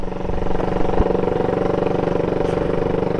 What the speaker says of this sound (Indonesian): Knalpotnya bisa denger kan teman-teman